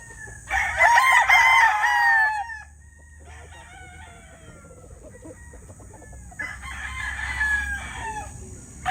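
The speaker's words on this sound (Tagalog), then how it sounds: "Napakagwapong manok mga idol." A gamecock rooster crows loudly twice, a long close crow near the start and another after a quiet gap, with faint clucking and background noise between.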